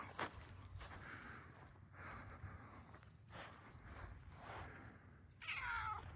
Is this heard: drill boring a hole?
no